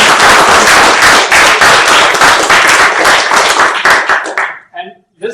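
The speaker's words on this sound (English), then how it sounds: "a little applause for that too" Loud, close applause from a future salon audience, dense clapping that cuts off abruptly near the end, followed by a brief voice.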